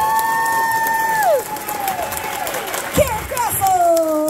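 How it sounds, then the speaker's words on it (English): Applause and cheering from a convention panel crowd at a fan expo, broad clapping beneath strong tonal whistles or squeals sweeping downward, with a voice speaking over it. "can I have a huge, huge round of applause for Melissa Gilbert first."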